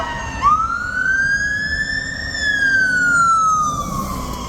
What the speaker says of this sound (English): Oh, another fire engine.